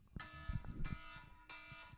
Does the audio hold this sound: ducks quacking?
no